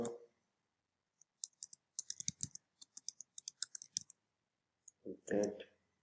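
A terminal command is typed on a computer keyboard as a close, quiet run of crisp key clicks in an uneven rhythm, with a few louder keystrokes near the end.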